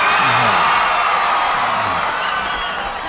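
A large outdoor crowd at a Reagan-Bush political rally in Winterset, Iowa cheers and whoops loudly and steadily, a dense wall of voices that holds for about three seconds.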